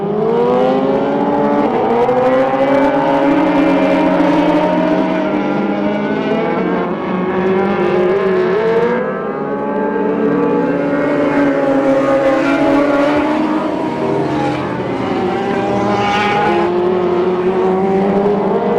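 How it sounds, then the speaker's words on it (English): Stock cars race in a pack at the 1996 Turkey Classic at Pearsonville, California, a loud, continuous engine roar with layered pitches that swoop up and down as cars pass and accelerate out of the turn. "And we are racing once again at Pearsonville as Jesse Chin takes the lead into turn number 1 under the green flag."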